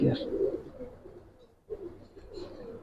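Giribaz khaki pigeons give several soft, throaty coos close by, one early burst and another after a brief pause.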